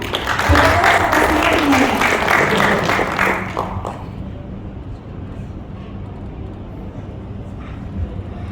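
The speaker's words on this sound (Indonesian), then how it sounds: "Boleh dikasih tepuk tangan?" Applause from an audience at a Garuda Indonesia travel agent event, loud for about four seconds and then fading away, leaving a low rumble of room noise.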